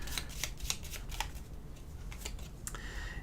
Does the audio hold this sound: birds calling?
no